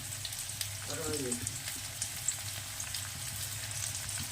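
Garlic and onion fry in a kadai for a chicken masala curry, a soft, steady sizzle with faint crackles and a brief faint murmur early on.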